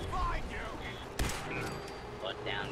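Cannon fire in the Fallout 4 video game: a single sharp broadband blast at about mid-clip, rising over steady game sounds, music and effects.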